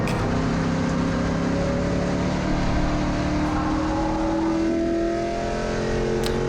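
Race cars in a Gridlife GLTC race at Mid-Ohio heard from inside a car, a loud steady engine drone with rising and falling tones as others get by.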